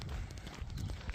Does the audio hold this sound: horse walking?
yes